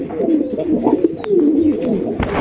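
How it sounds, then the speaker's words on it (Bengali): Bombay pigeons coo up close and loudly, their low rolling, throaty calls rising and falling continuously. "বোম্বাই মাশাল্লাহ ডাক দেখেন"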